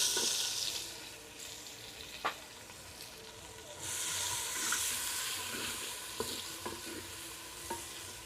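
Chopped onions go into hot oil already seasoned with bay leaves, dried red chillies and whole garam masala for a handi mutton dish, giving a steady close sizzle with occasional stirring clatters.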